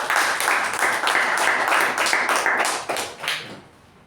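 An audience at a club meeting gives the first-time MC a round of applause, a dense, fairly loud patter of many hands that holds steady and then thins out and fades near the end.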